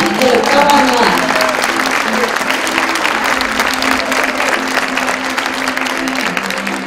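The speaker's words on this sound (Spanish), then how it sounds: "Le brindamos un aplauso a la profesora Ana María Gamonal de octavo año." Audience at a school graduation ceremony in Chile applauds an eighth-grade teacher, continuous loud clapping throughout, with a few voices and background tones underneath.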